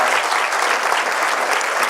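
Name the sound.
audience applause for a speaker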